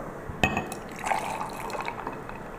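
Espresso coffee poured into a thick glass holding a few ice cubes, a close, soft liquid trickle with a sharp clink at the start and light splashing that carries on to the end.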